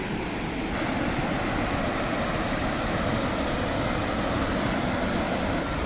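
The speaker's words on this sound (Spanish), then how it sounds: "Ya se empieza a escuchar la caída de agua." A constant, broad rushing roar of a waterfall, the Salto del Indio, fills the whole stretch, steady and fairly loud with no breaks.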